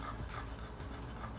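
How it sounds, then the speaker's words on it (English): A dog pants steadily close by, quick rhythmic breaths continuing throughout with no one speaking, beside a charcoal grill and offset smoker setup. "sorry you hear Charlie breathing in the background"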